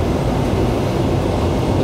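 A Canadian Pacific freight train pulled by eight locomotives passes with a steady, loud rumbling roar, heard from nearby without a break and with no talking.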